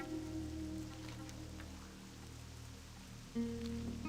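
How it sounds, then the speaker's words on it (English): Steady rain falling in a mage hardcore video game, a continuous soft hiss with droplet patter over low ambient game music, holding level throughout with a slight swell near the end. "And, of course it rains."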